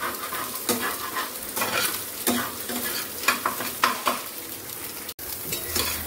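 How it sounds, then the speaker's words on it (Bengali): Egg frying in a pan for a home-cooked chilli egg dinner, a steady close sizzle and crackle broken by repeated scraping and stirring strokes, with no one talking. "ডিমটা ভাজা হচ্ছে"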